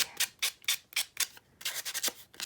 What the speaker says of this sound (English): the sandpaper to the edges if it's just too skinny to grab onto